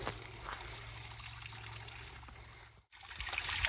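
Water trickles and runs steadily off icy rock in a mountain cascade, a close, continuous wash of splashing that briefly drops out and then resumes.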